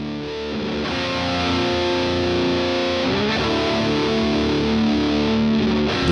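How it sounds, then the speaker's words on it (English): Electric guitar played through a VOX V8 tube distortion pedal, a high-gain pedal with a mid-shift switch, producing a thick, saturated, sustained chord that rings loudly and continuously with a brief re-strike partway through. "The V8 tube distortion is a high-gain powerhouse with a mid-shift switch"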